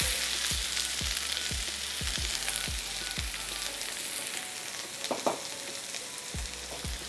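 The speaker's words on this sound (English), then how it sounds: "I'm going to add in my red onion and shallots to cook them first" Red onion and shallots frying in melted lard in a hot steel pan over medium-low heat, giving a loud continuous sizzle with regular low thumps and a brief clatter near the end, no voices.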